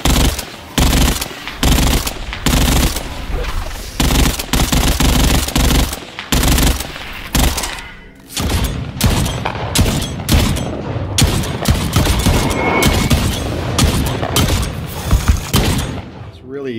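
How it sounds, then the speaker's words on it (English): Punchy automatic fire from the XP90 weapon in the sci-fi co-op shooter Earthfall, loud rapid bursts repeating across the whole stretch with brief pauses, dense and close, mixed with game action. "I got the XP90, and it had the new sounds in, and it was so dynamic feeling and so punchy."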